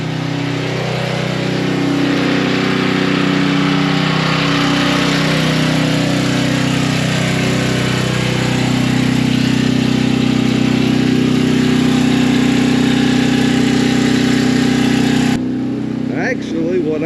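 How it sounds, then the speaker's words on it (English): A portable generator engine runs steadily outdoors on a stormy workday, a loud continuous mid-pitched drone with a constant hum throughout, then the level drops and shifts near the end. "shut down this generator."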